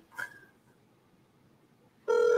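A phone call is placed: a short electronic beep sounds first, then after a pause a loud, steady telephone tone starts and holds to the end.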